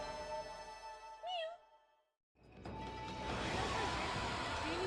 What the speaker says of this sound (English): Sorry, I heard a kitten being cute.